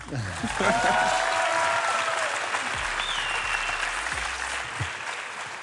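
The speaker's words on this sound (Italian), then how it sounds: "Un altro applauso, dai." Studio audience claps at an interview with music producers and an artist, a full, even burst of applause with a few whistles sliding over it, tapering gently after several seconds.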